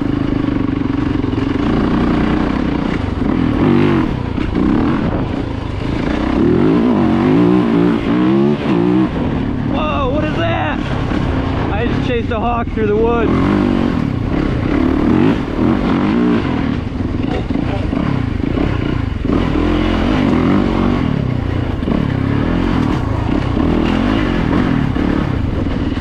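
A Yamaha YZ450FX dirt bike is ridden through leaf-covered woods, its engine droning and revving steadily with rising throttle bursts, loud and close, while a rider talks over it at times.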